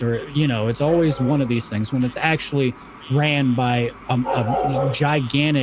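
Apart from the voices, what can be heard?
dog barking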